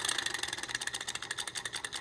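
A small hot-air Stirling engine, heated up and driving a generator by a rubber band, runs with a rapid, steady rhythmic ticking and chuffing. The sound is close and moderately loud, with no voices.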